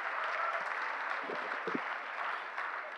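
Faint, steady applause from an audience at a Hindi comic poetry gathering, a soft distant wash of clapping with a few low thumps mixed in, no speech over it.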